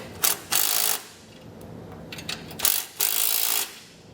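A ratchet with an 11/16 socket tightens U-bolts on leaf-spring helper springs of a 2017 Chevrolet Silverado, short bursts of rapid close clicking separated by brief pauses.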